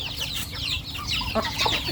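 Thai native chickens clucking near a rural home at morning feeding, a busy, close flurry of short clucks and squawks from several birds over a steady low background hum.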